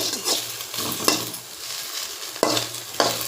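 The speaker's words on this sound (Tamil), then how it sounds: "வெண்டிக்காய் வந்து நறுக்கி வதக்குறாங்க" Okra sizzles and fries in a pan while a utensil stirs and scrapes it, with a few sharp clinks against the metal.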